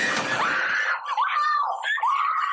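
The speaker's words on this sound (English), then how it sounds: "Someone's screaming." A woman in the horror movie Slotherhouse lets out a loud, shrill, drawn-out scream that wavers and breaks into several rising and falling cries over a couple of seconds.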